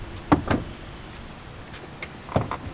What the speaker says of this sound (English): I have to wait a second when I hit my door for it to unlatch and pull